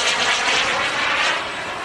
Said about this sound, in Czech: opět ukázka nízkého průletu na malé rychlosti